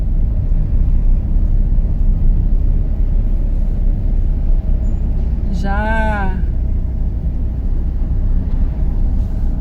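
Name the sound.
truck driving ahead on the road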